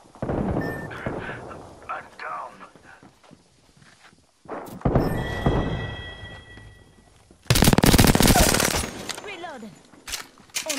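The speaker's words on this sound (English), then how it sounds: "Getting shot at." Gunfire in an Apex Legends match, made up of bursts of rapid shots and impacts in clusters. A long, loud, dense volley comes near the end, with quieter gaps between the bursts.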